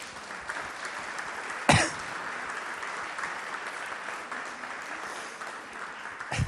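Steady applause from an audience fills the clip, with a single louder clap or knock standing out early on.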